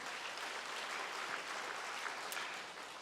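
A Sunday church congregation applauds in praise, a broad sustained roar of many hands clapping at steady loudness from start to finish.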